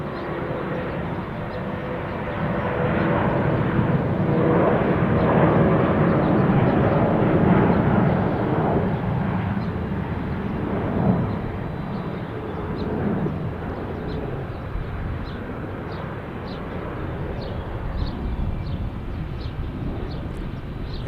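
An Airbus A319 airliner at Salt Lake City International Airport roars past as a broad rumbling jet noise that swells to a peak, then fades into steady wind-blown background.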